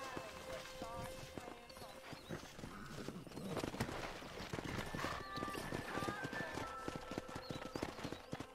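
Horse hooves clip-clop in the Red Dead Redemption video game as a rider wrangles horses, with steady hoofbeats running under game music, ambient sound and talking voices throughout.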